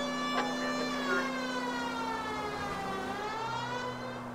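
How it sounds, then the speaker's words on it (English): A steady wailing police siren in the video game L.A. Noire Remastered rises and falls continuously, loud and close, with a low car engine hum beneath it. "Hear the sirens?"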